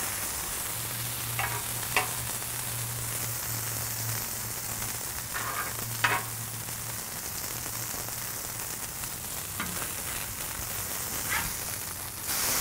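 A burger patty frying on a flat-top griddle with onions piled on top gives a steady, soft sizzle, broken by a few sharp spatula taps and scrapes, with a low hum running underneath.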